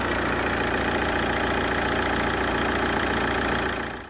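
A Vauxhall Vectra SRi engine runs steadily after its cleaned manifold was refitted, a continuous close idle-like rumble with a faint knocking texture throughout, fading slightly at the very end.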